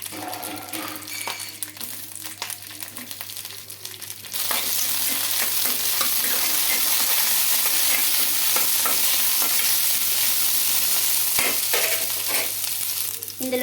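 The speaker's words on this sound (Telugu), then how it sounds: "కొద్దిగా ఆయిల్ అయితే వేసుకున్నానండి ఆయిల్ వేసేసుకున్నాక పచ్చిమిర్చి అయితే వేసుకుంటున్నాం" Green chillies dropped into a little oil in a kadai, a quieter crackle that suddenly jumps to a loud, steady sizzle with occasional spits and stirring clinks.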